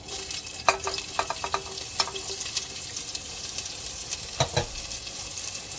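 Onions sizzle in hot oil in a pan for bhaji, with steady frying hiss broken by repeated scraping clicks of a spoon stirring, close up and with no talk.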